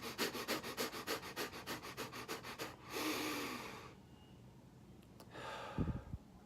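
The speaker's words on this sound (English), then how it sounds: "Just do a rapid breathing technique." Rapid bellows breathing exercise, with about a dozen quick, even, forceful nasal breaths in steady rhythm, close up, then a long exhale and a couple of faint sniffs, with no talking.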